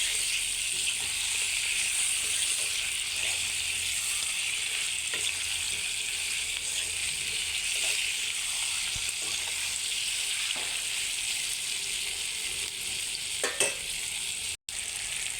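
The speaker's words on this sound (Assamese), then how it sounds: "আৰু দিলোঁ মাংস এনেকৈ লৰাই দিছোঁ" Meat fries in a pan with a loud, steady sizzling hiss, broken by occasional scrapes as it is stirred, close up and with no talking.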